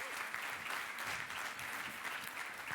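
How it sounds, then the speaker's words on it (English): Audience applause at a EuroDIG 2016 conference session, a dense, steady clapping from a room full of people that holds evenly throughout without a break. "I think you need a round of applause"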